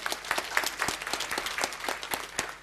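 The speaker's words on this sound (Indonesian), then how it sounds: "Tepuk tangan saudara." Audience applause during a church sermon, a steady patter of many hands clapping at moderate volume, with no voices over it.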